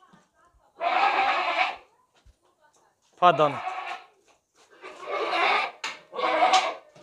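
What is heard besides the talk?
domestic sacrificial goat bleating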